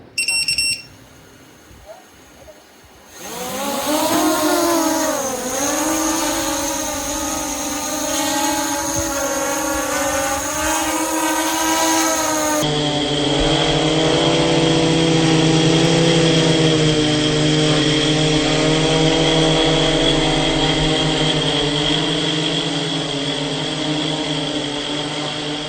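A 5-inch FPV drone on 3S batteries, flying analog without a GoPro, spins up after a short quiet start into a loud, steady multi-tone motor whine that shifts pitch with throttle and holds close for the rest of the flight.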